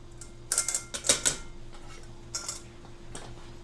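A spoon stirs dry ingredients into melted butter and unsweetened baking chocolate for a chocolate pie, with a few quick clinking scrapes against the bowl in short bursts, close and fairly faint.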